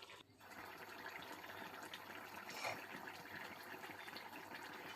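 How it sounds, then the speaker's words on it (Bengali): Water pours into a pan of fried bamboo shoots, a steady broad gushing and splashing rush that holds evenly for several seconds, fairly close and moderately loud with a brief swell midway. "এখন আমি এটাতে জল দিয়ে দেব"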